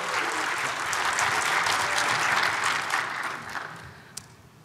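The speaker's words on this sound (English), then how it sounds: "give a round of applause for Paula Kennedy" Audience applause welcoming Paula Kennedy to the stage at a tech conference talk, steady dense clapping that holds for several seconds and then thins and fades near the end.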